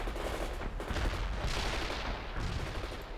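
Rifle fire in the World in Conflict video game, a continuous dense rattle of gunfire with rumbling battle noise, loud and steady across the whole stretch.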